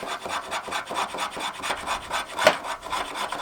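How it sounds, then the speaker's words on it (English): Homemade waxwood is scraped with a blade to raise curls, giving a continuous run of close, dry, raspy strokes in a steady rhythm with one sharper scrape near the end. "it's much harder to scrape and get some decent curls"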